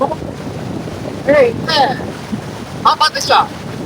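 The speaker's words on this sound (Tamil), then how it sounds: "தண்ணி ஃபோர்ஸ் ஜாஸ்தி இருக்கு." A strong river current rushes in a steady wash of water noise with wind buffeting the microphone, while people talk briefly over it.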